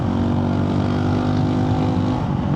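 A Honda CRF450RL dirt bike with a Stage 2 tune and aftermarket exhaust runs loud and close, its engine note holding a steady, full-bodied roar with slight fluctuation over a couple of seconds.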